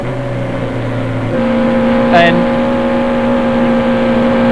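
Formula Vee race car engines drone at high revs at a 1987 race in Adelaide, their pitch shifting as cars pass, while a commentator talks over the noise.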